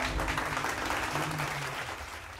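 Audience applause in a gathering at a seminary, brief moderately faint clapping with a low hum underneath and a voice briefly present.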